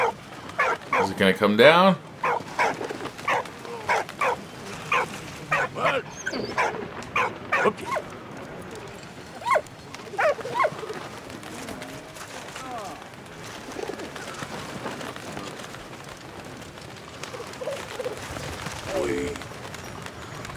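A dog barks repeatedly in the World War I video game Valiant Hearts, in short bursts near the start and again later, amid cooing pigeons and game sounds, while someone talks over parts of it.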